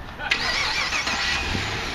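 A 2011 Chevrolet Camaro Convertible 2SS with a 6-speed automatic starts by remote start and settles into a steady idle, the engine rumbling continuously at moderate loudness throughout.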